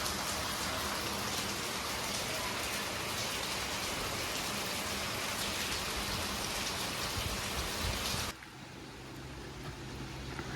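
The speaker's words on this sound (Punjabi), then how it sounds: "ਮੀਂਹ ਦੇਖੋ ਕਿੰਨਾ ਪੈਂਦਾ" Heavy rain pours steadily in a dense, hissing wash, then abruptly softens near the end to a lighter, quieter patter. Recorded in Italy.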